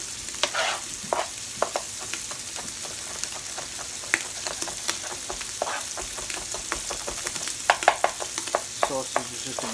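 Sausage fries in a pan for chili with a dense, continuous sizzle broken by frequent crackling spits and stirring scrapes, close and fairly loud, with no voices.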